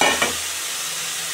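Helencha stems dropped into a hot frying pan set off a loud burst of sizzling and stirring, settling into a steady close-up hiss of frying.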